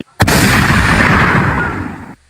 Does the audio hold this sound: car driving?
no